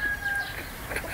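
Fighting roosters cluck on a farm in Canada, a faint, brief call over steady low background noise.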